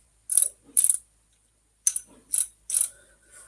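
A motor being installed makes rough mechanical noises: five short, sharp grinding bursts with ratcheting clicks, separated by silences, close and fairly quiet.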